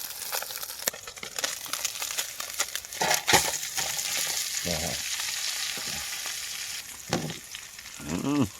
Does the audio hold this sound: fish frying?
yes